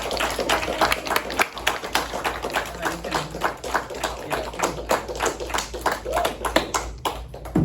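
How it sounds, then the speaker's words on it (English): A small group gives another round of applause for Pixel and the others, uneven individual claps tapping in a loose, irregular rhythm close by, with voices murmuring underneath. "let's give Pixel and everybody another round of applause"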